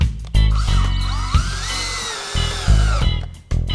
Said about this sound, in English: drive that first screw into the joist